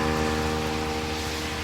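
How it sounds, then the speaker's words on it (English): Heavy pouring rain during a windy storm on a roadside, heard from under an awning, a steady dense hiss of downpour filling the whole clip with no talk. "it is absolutely pouring rain."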